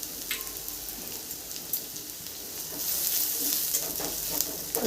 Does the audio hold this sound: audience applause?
no